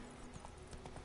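Roach, a horse in The Witcher III, gallops in a brief run of rhythmic hoof clip-clops, faint and somewhat distant, alone without talk.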